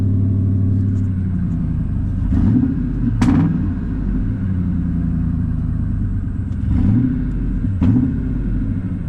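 Ford F150 engine revving as the throttle is opened after a throttle position sensor repair, a steady loud rumble with two distinct rev swells rising and falling, close up and without speech.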